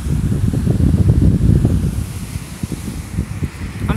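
Wind blowing over beach dunes by the Gulf, a steady, loud, low rumbling buffet with gusting surges and rustle, close and continuous with no talking.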